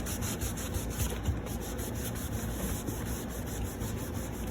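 Steady hand rubbing over a wood surface to bring out a faux wood-grain finish, a continuous close, even scrubbing friction with a faint high whine behind it and no talk.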